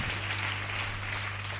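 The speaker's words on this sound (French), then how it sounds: "Acclamez le Saint-Esprit" A congregation at a religious deliverance service claps and cheers steadily in praise of the Holy Spirit, a dense, sustained burst of applause filling the room.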